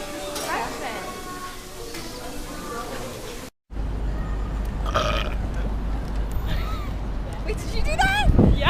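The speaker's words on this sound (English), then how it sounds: "just give a big burp right when you open the door" A person gives a loud, long burp while opening the door of a Chipotle restaurant, rising over busy indoor background noise with voices, ending in a strong rasping burst near the close.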